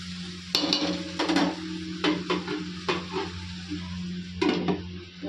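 A metal lid clanks onto a frying pan of frying food, several sharp knocks and rattles spread over a few seconds above a soft sizzle and steady low kitchen hum.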